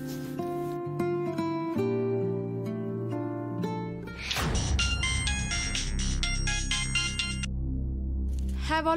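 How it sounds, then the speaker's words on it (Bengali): A phone's ringback and ringtone melody on an outgoing call in a Bengali TV drama, repeated electronic tones in a steady pattern, shifting to a brighter, busier tune midway, loud and close with no talk. "একবার শ্যামলী দিকে ফোন করি।"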